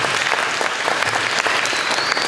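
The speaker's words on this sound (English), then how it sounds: "round of applause for the story" A school audience at a San Francisco middle school breaks into sustained, dense applause that stays loud and even for the whole stretch, with no voices over it.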